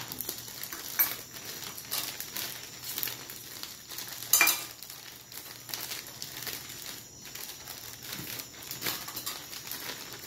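Dry biscuit ingredients are shaken inside a closed bag, giving a continuous rustling, crinkling patter close by with uneven surges and no talking.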